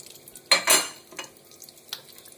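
Bay leaves, whole garam masala and cumin drop into hot mustard oil, giving a couple of sharp bursts of sizzling and stirring clatter, then quieter scattered crackles, close by and without talking.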